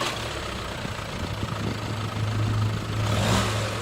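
A Volkswagen TDI diesel engine idles with a steady, low, throbbing rumble. It holds an even tone throughout, with a slight swell near the end.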